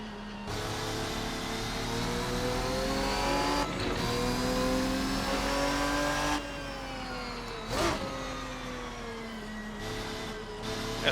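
Ferruccio 57 race car in a racing sim, engine note climbing steadily through the gears with a few sharp shift cuts and downshift blips, loud and continuous.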